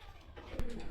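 A pigeon coos softly nearby, low murmuring calls building toward the end, while a brief sharp knock or click cuts through midway and a voice may briefly sound.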